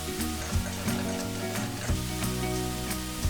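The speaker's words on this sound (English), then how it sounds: "fry this until cauliflower is nice and soft and cooked" Cauliflower and chicken frying together for Schezwan fried rice give a steady close sizzle, with low tones running underneath. Short bursts of stirring or scraping come through at intervals, and no one talks.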